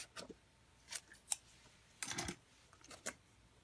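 Scissors trimming paper for a card-making craft layer, a few crisp snipping cuts spaced irregularly, close and fairly quiet with no talking.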